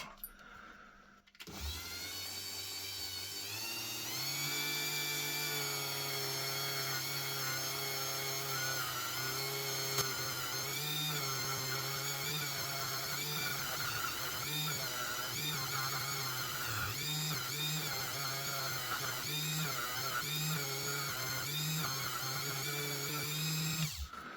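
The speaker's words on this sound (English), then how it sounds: "I've got this wire wheel on a Dremel and I'm just going to run the parts" Dremel rotary tool fitted with a wire wheel, carding antique percussion pistol parts: a steady high-pitched whine with shifting pitch and scratchy contact as parts are pressed against the spinning brush, close and continuous.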